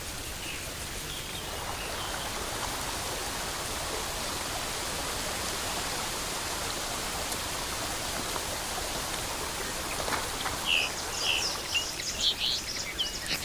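A small river near Tbilisi rushes and babbles in a steady, even wash of water, with a few faint bird chirps breaking through near the end.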